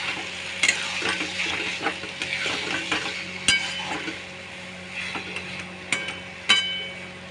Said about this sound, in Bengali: এর মধ্যে একটু ঘি দিয়ে ভালো করে মিলিয়ে নিতে হবে